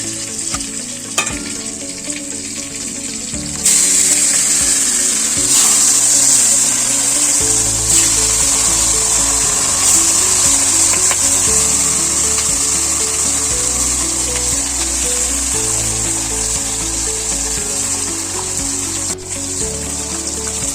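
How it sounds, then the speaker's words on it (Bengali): Pieces of fresh rohu fish fry in hot oil in a pan, giving a loud, continuous sizzle and crackle that swells as more fish go in, with no talking. "এইভাবে আমি সব মাছগুলো ভেজে নিচ্ছি"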